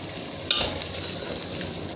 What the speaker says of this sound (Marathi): ते सगळं व्यवस्थित भाजून घ्यायचे